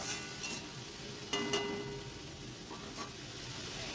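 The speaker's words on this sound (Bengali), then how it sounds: "আর এইদিকে চিংড়ি মাছটা ভাজা হচ্ছে" Shrimp fry in a pan in a Bengali village kitchen, giving a faint, steady sizzle with a couple of brief stirring clinks.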